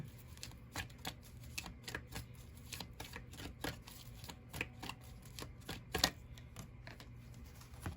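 Tarot cards are shuffled and drawn in a run of quick, crisp riffling snaps and flicks, close and fairly quiet, with no talk.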